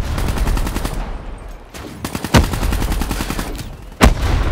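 Rapid automatic gunfire from Call of Duty Black Ops 3 rattles in dense bursts, with a brief lull near the one-second mark and two sharper, louder shots punching through the stream.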